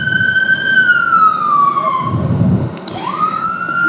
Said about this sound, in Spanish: Vamos a esperar ahí que pase la ambulancia.